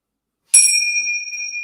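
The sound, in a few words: bells rung to begin yoga class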